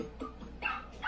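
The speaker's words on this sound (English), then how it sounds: "Okay, the dog is coming." A dog in Super Mario Maker 2 gives a few quick close yips and barks in a brief burst, alone.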